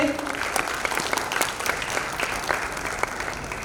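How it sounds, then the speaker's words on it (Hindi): An audience at a Hindi theatre performance gives loud, sustained applause to honour the guests, with steady clapping carrying through to the end at moderate distance. "जोरदार तालियों से अभिनंदन करें।"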